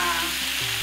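Palm sugar melting and sizzling in a hot frying pan for tauco beancurd, a short burst of dense crackling sizzle with a few tonal scrapes of stirring over it.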